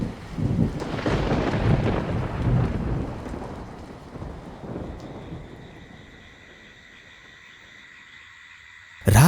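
Thunder rolls through a stormy night with heavy rain, a loud broadband rumble for the first few seconds that gradually fades to a quieter hiss, ending with an abrupt burst of sound.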